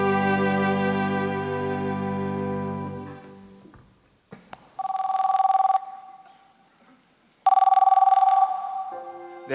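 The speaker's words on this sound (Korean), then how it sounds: "이제 마지막 전화 받아보겠습니다" A telephone rings with an incoming call, two loud bursts of electronic ringing separated by a pause, heard alone with no talk.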